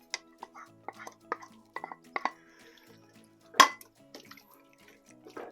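Collard greens dropped into a soup pot give a few soft splashes and clinks of a utensil against the pot, sparse and quiet, with one louder splash partway through.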